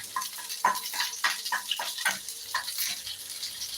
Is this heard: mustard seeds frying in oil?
yes